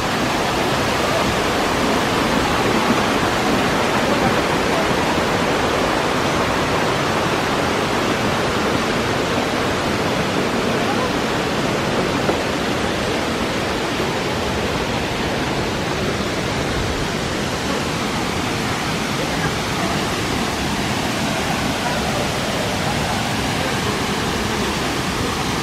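The waterfall at Kawasan Falls in Badian, Cebu, sends up a loud, constant roar of rushing, crashing water that fills the scene evenly throughout, with no voices heard.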